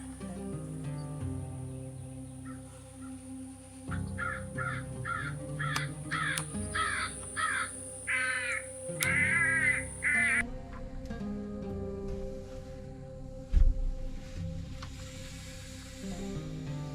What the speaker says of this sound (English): And there's a crow coming,